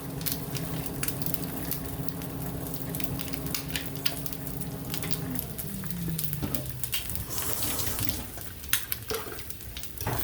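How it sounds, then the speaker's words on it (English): A whisk works Knorr hollandaise sauce around a pan, with soft, quick scraping and patter at close range over a low hum, while a faint tone slides down partway through. "And just whisk that."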